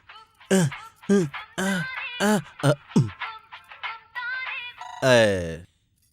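A phone ringtone plays a quick series of bright, melodic notes, pauses briefly, then ends on one longer, sweeping tone. No one speaks.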